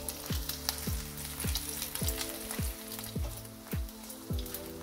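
Smoked lard sizzles on low heat with a steady, gentle fizz and crackle, under a recurring tonal chirp that repeats at an even rhythm.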